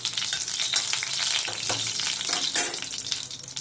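Black cumin seeds and a dried red chili spluttering in hot oil, with a steady bright sizzle and a few soft scrapes of stirring, close and continuous.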